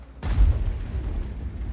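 A single deep, booming tank cannon blast from the Skorpion G in World of Tanks that rolls off into a low rumbling tail.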